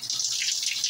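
Shower water runs steadily with a hissing spray, close and fairly loud, with no talking over it.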